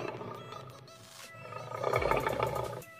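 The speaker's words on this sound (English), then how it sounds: "This is a lion." A Google Home Mini smart speaker plays a recorded lion roar, a rough, breathy growl that swells into a deep, louder roar toward the end, heard alone without talk.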